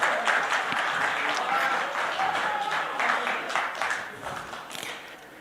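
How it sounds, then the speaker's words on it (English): Sustained applause from an event crowd honouring a team member at a corporate gathering for an event management and media company, dense and steady throughout with some voices mixed in. "Big round of applause for Sharat"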